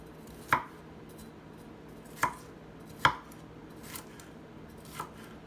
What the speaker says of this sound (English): I'll be finished chopping it up by the time I put it together